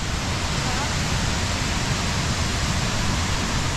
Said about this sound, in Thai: บริเวณที่มีน้ำตกเสียงดังแล้วก็ไอ้น้ำฟุ้งกระจายอย่างมาก